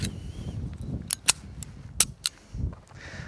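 Several sharp, snappy reports from a Russian PSM pistol being fired, short cracks spaced irregularly over a few seconds against a low background rumble.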